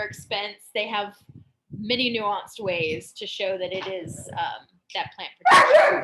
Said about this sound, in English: I apologize for the dog again.